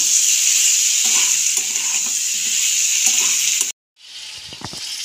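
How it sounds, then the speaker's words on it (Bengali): Amla, Indian gooseberries, fry in hot oil in a pan for pickle, a steady loud sizzle with occasional stirring clinks, cutting out abruptly before a quieter sizzle resumes. "আমলকিগুলো যতক্ষণে ভাজা হচ্ছে"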